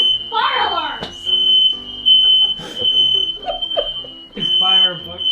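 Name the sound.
smoke detector alarm beeping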